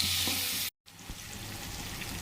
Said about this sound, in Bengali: পেঁয়াজের সাথে নুন দিয়ে পেঁয়াজটা একটু ভালো করে ভেজে নিচ্ছি।